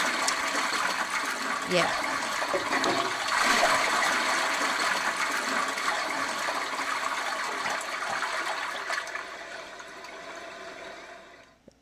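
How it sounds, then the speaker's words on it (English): A toilet flushes in a video game bathroom, a long rushing gush of water lasting most of the span before tapering off, with a brief spoken word over it. "It creates a flushing noise."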